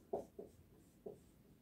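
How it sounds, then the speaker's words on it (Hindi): A marker or chalk strokes across a classroom board in three short, soft scrapes, close by and faint, set apart by brief pauses. "मैं यहां पे लिख देती हूं"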